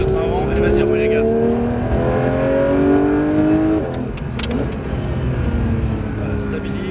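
A Porsche 911 992 GT3 accelerates on a race circuit at Géoparc St Dié, its engine note climbing through rising harmonics, then dropping for a gear change or lift before pulling again, loud and close, with a voice talking over it.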